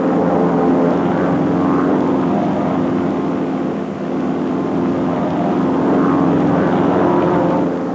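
North American Aviation T-6 propeller aircraft flying in formation, a loud, steady engine and propeller drone holding constant throughout with no pauses.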